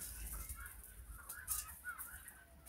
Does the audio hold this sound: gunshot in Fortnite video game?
no